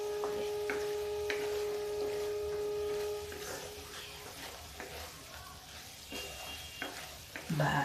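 Vegetables stirred and frying in masala with yogurt in a pan, a close steady sizzle with scattered spoon scrapes and taps, growing quieter partway through before a final clatter.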